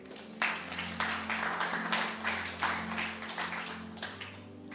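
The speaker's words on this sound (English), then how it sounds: "Clap hands for Jesus" A church congregation claps hands for Jesus during a sermon, a run of rhythmic, moderately loud group claps in a reverberant hall over a steady low hum.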